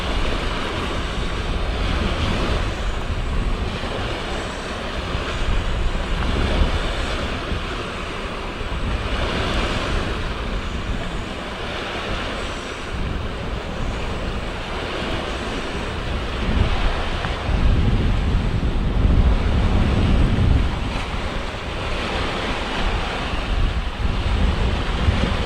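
Steady wash of waves rolling against the shore during road flooding, heard as continuous broadband surf roar mixed with wind buffeting the microphone, fairly loud throughout with gentle swells in intensity and no voices.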